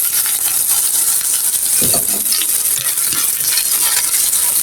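Steady loud sizzling of chicken frying lightly in a pan, with a few scraping stirs partway through; no voices.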